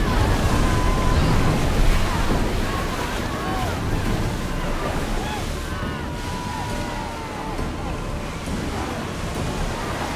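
A ship pushes through rough sea in Assassin's Creed Odyssey, with a loud, continuous rush of waves and wind churning steadily throughout while a crew shouts commands over it.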